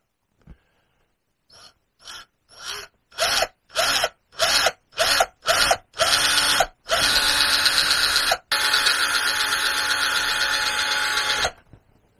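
A power drill boring a small hole in an aluminium dash panel, starting with short stuttering bursts that build into a long continuous whine, broken once, then stopping.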